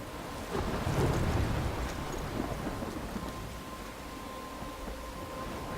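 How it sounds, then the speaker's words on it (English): A thunderstorm in Life is Strange rolls through with a low thunder rumble near the start, then steady, heavy rain hissing on without pause and no voices. "I'm trapped in a storm?"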